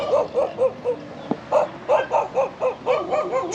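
A dog barks repeatedly in quick, rhythmic bursts, close and fairly loud, with a few yips mixed in.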